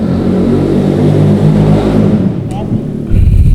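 A loud motorcycle or car exhaust revs outside a studio that is not soundproofed, a rumbling, roaring drone under continuous talking, swelling again near the end.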